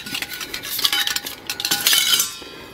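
Metal parts of a Silver Fire Scout wood gas backpacking stove and an MSR Alpine pot clink and rattle together at close range, a quick series of bright chinks and scrapes with no talking.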